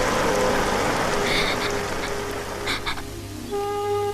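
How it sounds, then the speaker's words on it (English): Steady rain hisses throughout, fading slightly toward the end as a tonal hum emerges. "Yes, it's raining."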